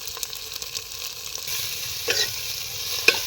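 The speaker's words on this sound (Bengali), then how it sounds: "কাঁচা লঙ্কা বাটা, যে মশলাটাকে ভেজে নেব।" A spice paste of garlic, green chilli, turmeric and coriander powder fries in a pan with a bright continuous sizzle and quick stirring scrapes, growing a little louder toward the end.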